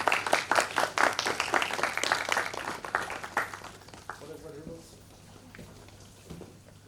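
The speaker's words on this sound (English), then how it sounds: "Please welcome our dignitaries with a round of applause." An audience applauds at a conference inauguration, welcoming dignitaries with a burst of dense clapping that thins out and fades after a few seconds, with voices murmuring underneath.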